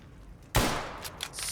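A sudden loud burst of gunfire from a gun in a modded Fallout: New Vegas erupts after a quiet moment, followed by a few more sharp shots trailing off.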